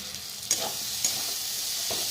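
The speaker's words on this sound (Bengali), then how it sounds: "এই যে এদিকে বাঁধাকপি মশলা কষাচ্ছি" Cabbage with onion, ginger, garlic and spices stir-fried in a pan: a continuous close hiss of frying broken by two or three soft scrapes of a spoon.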